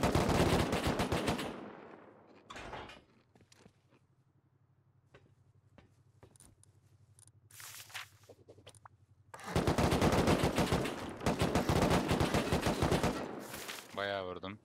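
Bursts of rapid automatic gunfire during a raid in the video game Rust, loud and close, with a low steady hum and a few scattered single shots between the volleys.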